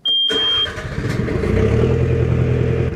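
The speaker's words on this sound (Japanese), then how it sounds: "はいじゃあエンジンをかけて" A small fishing boat's engine starts after a short electronic beep, then settles into a steady, close, rumbling idle.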